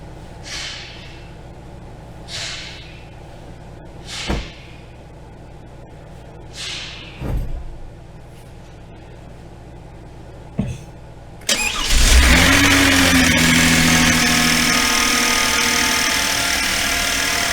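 A 2016 Hyundai Genesis Coupe, after fuel pump repair, gives several short bursts, then cranks and catches, settling into a loud, steady idle close by.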